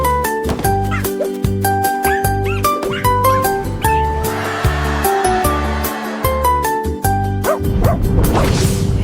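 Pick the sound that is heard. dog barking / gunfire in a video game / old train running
dog barking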